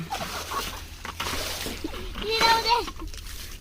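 Water poured from a bucket splashes and sloshes at a stream bank, in short bursts under almost constant chatter from children and an adult nearby.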